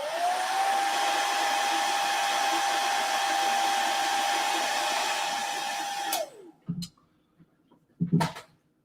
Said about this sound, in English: I'm just going to let that dry with my hairdryer.